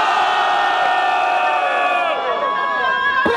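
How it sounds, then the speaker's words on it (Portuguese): Loud crowd cheering and whooping at a freestyle rap battle semifinal in São Gonçalo, a dense sustained roar of many voices filling the whole stretch and easing slightly toward the end. "Agora faz barulho que no terceiro round prefiro a rima do MC Jedi"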